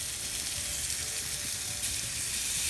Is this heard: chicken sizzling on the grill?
yes